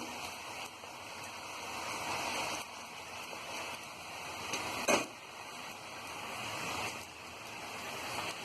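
Steady, hissing sizzle of puris deep frying in hot oil over high heat, continuous and close, with a brief louder crackle midway.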